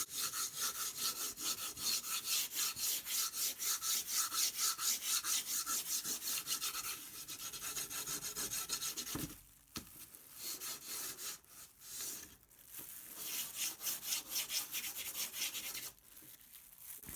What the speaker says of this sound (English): all we need to do is take a small piece of white chalk and rub it